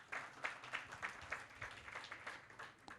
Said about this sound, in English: So maybe we can give him a hearty clap.